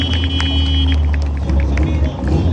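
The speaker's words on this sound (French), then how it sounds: "Le véhicule glisse à l'arrière." A car slides at the rear while attempting a half-turn in a driving or skid exercise, heard as a steady loud engine rumble with a brief tire squeal early on, continuous and close throughout.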